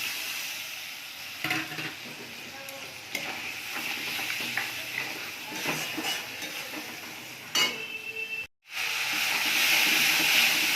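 Ground cumin spice paste sizzles steadily in hot oil in a pan, with stirring scrapes throughout and a brief drop in the sizzle before it resumes loudly.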